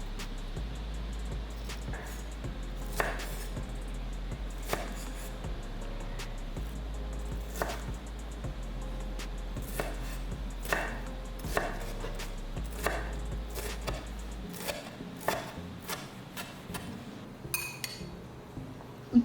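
A knife chops a tomato finely on a board, with crisp, sharp knocks, sometimes single and sometimes in quick runs, against a quiet low background hum.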